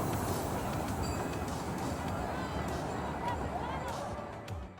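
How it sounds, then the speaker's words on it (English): A zoo tour train rolls past at the San Francisco Zoo, a steady loud rumble with faint wheel squeal that holds for about five seconds before easing slightly, with people talking faintly in the background. "Here we had to wait for the train to pass by doing a tour of the zoo."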